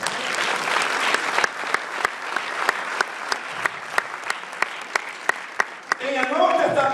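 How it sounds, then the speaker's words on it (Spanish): A church congregation applauds during a service, dense clapping that thins into a few sharp rhythmic claps near the end, followed by a rising voice. "¿Cuánto le da un aplauso al Señor?"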